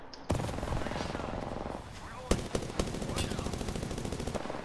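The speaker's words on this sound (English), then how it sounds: "Gunshots to the right." Bursts of rapid gunfire rattle off in quick volleys in Apex Legends, with a few sharper single shots standing out, under a busy game soundscape with faint voices.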